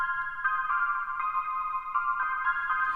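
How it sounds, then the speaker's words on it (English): A synth pad sequence on a Novation Circuit Tracks plays in a higher register, with steady bright sustained tones that restrike in a slow repeating pattern, clean and alone at moderate level. "the new pad idea sounds like this"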